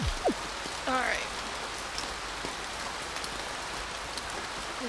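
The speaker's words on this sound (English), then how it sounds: "This rain is really fucking loud in my ears." Steady, hissing rain in the video game Ao Oni pours continuously at an even level, with a few brief chirps and a faint voice early on.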